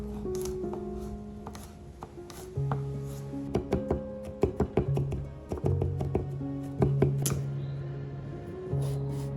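A knife chops vegetables on a board while a chicken tikka masala and noodle dish is prepared. Irregular clusters of crisp taps, some quick and some spaced apart, sound close up over soft steady background music.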